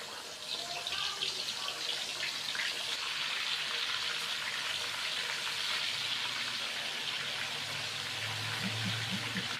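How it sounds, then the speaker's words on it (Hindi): Chicken sizzling and crackling in hot oil as a chicken pulao is cooked, a steady bright frying hiss filling the whole stretch, with a few low bubbling pops near the end. "माशाल्लाह से ऑयल हमारा गर्म हो चुका है। अभी हम इसके अंदर चिकन डालेंगे।"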